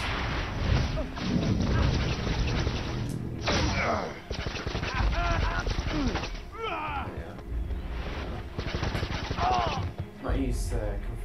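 Confringo fire spell blasting gold objects in a Harry Potter Deathly Hallows Part 2 video game, a dense run of crashing, crackling explosions and clattering debris, loud and continuous over the whole stretch with short pauses between bursts.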